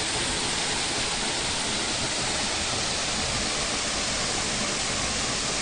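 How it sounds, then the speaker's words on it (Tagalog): A steady, full roar of falling water at Gunhuban Falls, continuous and close, with no voices over the rushing wash. "Yung falls na yan."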